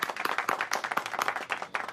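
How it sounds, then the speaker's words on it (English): A theatre audience applauds a volunteer called up on stage at a festival performance, with dense, irregular hand claps packed closely together for a brief burst. "Please, a round of applause for our one volunteer."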